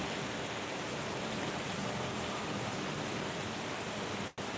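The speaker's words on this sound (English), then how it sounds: "Here it just started to rain." Rain falling steadily, a dense even hiss of drops that holds unbroken throughout, close and fairly loud, ending with a brief sharp click near the finish.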